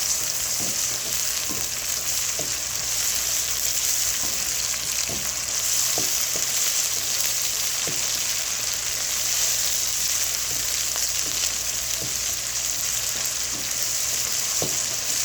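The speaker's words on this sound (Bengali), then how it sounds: "দিয়ে একটু ভাজা করে নিচ্ছি" Ginger paste fries with onions in a pot for pulao, a continuous close sizzle with soft periodic scrapes of stirring throughout.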